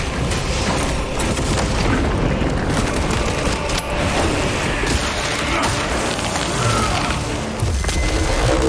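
In Warhammer 40,000: Space Marine 2, a dense barrage of booming explosions and rapid gunfire rolls on without a break, loud and close, with heavy blasts layered over steady automatic fire.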